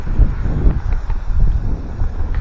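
Strong wind blows outdoors along the Cumbria Way, a continuous loud rumble buffeting the microphone with gusty rises and falls throughout.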